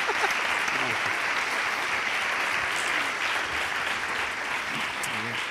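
An audience applauds at the close of an interview with Galder Varas, steady moderate clapping throughout with faint voices mixed underneath.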